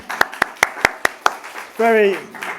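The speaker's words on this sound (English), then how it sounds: "Let's give him a round of applause in his absence" Six sharp, evenly spaced hand claps at a poetry conference, close and distinct, followed by a brief voice.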